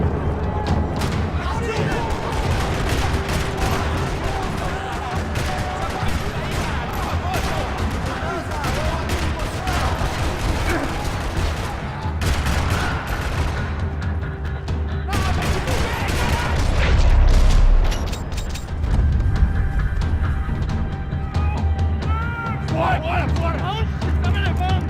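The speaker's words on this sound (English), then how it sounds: "Another parking lot rattling with gunfire." Heavy gunfire rattles across a parking lot in the video game Max Payne 3, dense continuous bursts with booming impacts under voices, swelling louder near the end.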